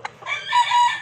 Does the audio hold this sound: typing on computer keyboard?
no